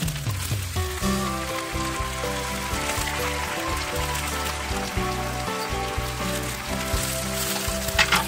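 Green beans and bay leaves fry in a pan with a steady, dense sizzle and crackle, close and continuous throughout.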